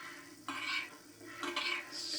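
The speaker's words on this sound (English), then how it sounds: "Just stir these together." Spoon clinks and scrapes in a bowl while gooseberry and raspberry crumble filling is stirred with sugar and vanilla, two short bursts of stirring, close and fairly quiet.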